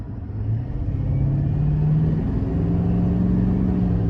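Deep, steady rumble of a 2021 GMC Sierra 2500HD Denali's 6.6 Duramax diesel as throttle is applied, the engine note swelling and holding at a higher pitch, close and loud throughout.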